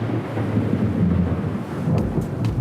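Thunder from a thunderstorm rolls as a deep, continuous rumble with a steady wash of rain, growing slightly heavier near the end, loud and close with no voices.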